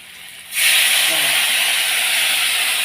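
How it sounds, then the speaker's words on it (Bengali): After a quiet moment, a sudden loud hiss erupts as a little water hits hot spices in a pan over lowered gas, then sizzles steadily and evenly to the end. "তার মধ্যে একটুখানি জল দিয়ে দিই"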